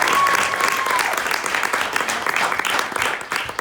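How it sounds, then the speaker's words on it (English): An audience applauds as a comedian is introduced at a live comedy show, a dense, continuous wash of clapping at close range with some voices mixed in. "Yeah, you can clap."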